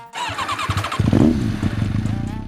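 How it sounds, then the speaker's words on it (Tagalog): A Bajaj Pulsar N250 250cc motorcycle engine cranks and fires up nearby, catching into a throaty, uneven idle with a few quick revs. "napakaganda ng tunog niyan lalo na pagka pinaandar mo na dahil 250cc yan"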